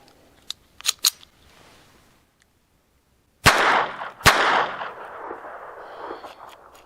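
Pocket pistol firing PMC ammunition outdoors, two sharp loud shots a second apart with ringing echo, preceded by faint clicks and handling noise.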